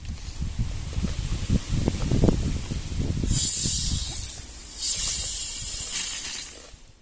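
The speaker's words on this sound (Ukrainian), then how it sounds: "Тепер всипаю сіль, беру її 3 столові ложки." A steady gritty hiss of coarse rock salt grains streaming into a jar, pouring in two long sustained waves before tapering off.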